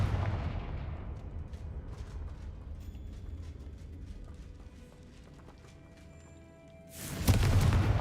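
A Confringo fire spell blast in Hogwarts Legacy, a loud broadband explosive burst near the end that follows a stretch of rumbling game ambience with scattered crackles.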